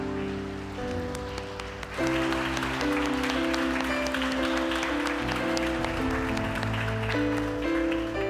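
Church congregation claps over sustained organ or keyboard chords, the applause swelling after a quiet start and continuing steadily beneath the music.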